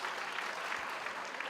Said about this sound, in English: Can you give that a round of applause?